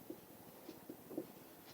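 Chalk or marker tapping and scratching on a classroom board during a mathematics lesson, a few short faint strokes spaced irregularly, quiet and close.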